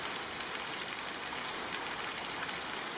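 Steady rain falls as an audio drama effect, a dense, even hiss of drops spreading across the whole range at a constant moderate level, with no voices or other events breaking through.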